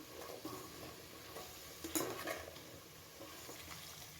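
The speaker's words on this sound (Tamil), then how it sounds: "இது நல்லா கிளறி கொடுத்துக்கலாம்." A spoon stirs chopped vegetables and salt in a sambar pot, giving faint scraping and soft sizzling with a brief louder clatter in the middle.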